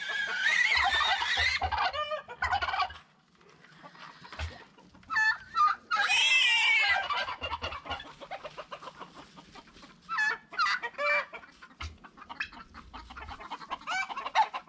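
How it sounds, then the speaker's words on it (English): Chickens cluck in bursts of harmonic squawks and chatter, fairly close and loud, with brief pauses between flurries and other fowl calling now and then. "I think the chickens aren't so sure about me."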